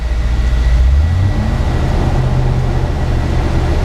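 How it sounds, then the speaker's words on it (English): A 1979 Chevy K20 squarebody's engine fan with a new fan clutch roars loudly and steadily, a broad continuous whoosh of air over low engine rumble, with no talk. "Here we go. You're listening to this fan roar."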